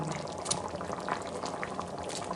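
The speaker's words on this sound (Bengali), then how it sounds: "এখন আমি আমলেটগুলোকে এক এক করে ছেড়ে দিচ্ছি" Potato curry gravy simmers in a pan as egg omelettes are slipped in, giving a soft, continuous bubbling and liquid burble, faint and close, with no talking.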